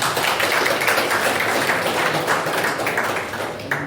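Audience applause at a Tamil Nadu literary society's monthly meeting, a steady, dense wash of many hands clapping throughout, fairly loud and even, tapering slightly toward the end.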